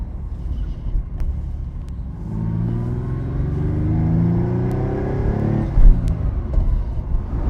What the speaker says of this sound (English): We will warm her up gently. First to third gear.